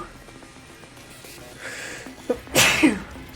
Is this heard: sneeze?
yes